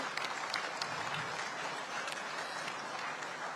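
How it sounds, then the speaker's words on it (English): Applause from the audience at a live session celebrating women leaders of the Indian diaspora, a steady dense wash of many hands clapping, fairly faint and distant, continuing evenly throughout with no voices over it. "A big round of applause for all the Nari Shakti."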